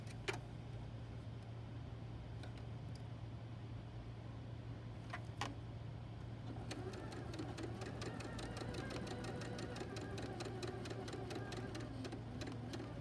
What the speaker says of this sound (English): now I'm going to go back and sew that same direction again